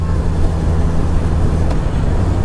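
Honda CBR 650R motorcycle with an aftermarket exhaust cruising in 5th gear, a steady, loud low engine drone with rushing wind noise, continuous and unbroken throughout.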